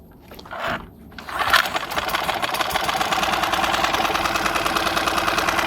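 A 2020 Tohatsu 6 hp outboard motor runs with its cover removed, starting with a short burst, then settling into a loud, steady, rattling mechanical drone that continues to the end with no talk.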